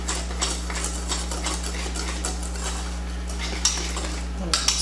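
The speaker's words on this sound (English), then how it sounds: "I'm going to whisk them together to combine the dry ingredients" A whisk clinks and scrapes rhythmically against a bowl while mixing flour, baking powder and baking soda, with a steady low hum in the background.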